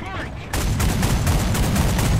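Artillery fire in the War Thunder video game comes as a dense burst of rapid blasts after a short quiet start, continuing through the rest of the moment.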